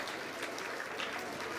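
Audience applause fills a felicitation ceremony at an education expo, steady dense clapping at moderate distance with no voices on top.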